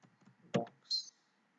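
A single computer mouse click sounds close and sharp, followed by a brief faint high electronic chirp, in a quiet office setting.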